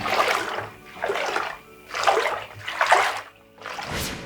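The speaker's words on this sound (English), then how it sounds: "Did you hear the sound the water made when I swished it in the bath?" Water is swished back and forth in a tub, producing four or five rhythmic whooshing surges, each rising and fading, close and fairly clear.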